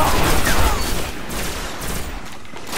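Shotgun and other weapon fire from a Destiny Crucible match comes as a dense burst of loud, close shots in the first second, thinning into scattered reports and game noise afterward.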